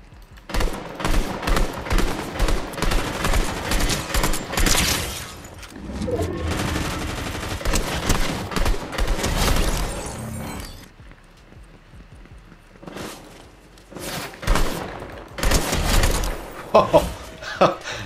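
Rapid bursts of gunfire from a video game shooter played on a GEEKOM AX8 Pro mini PC, dense volleys repeating in clusters with short pauses between them.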